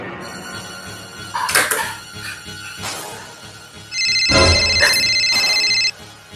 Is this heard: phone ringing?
yes